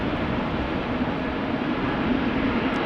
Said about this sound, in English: German Airways, flying on behalf of KLM, will be going to Stuttgart, also taking off from 18 left